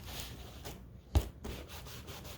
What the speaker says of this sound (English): I'm just gonna rub this all over the pumpkin.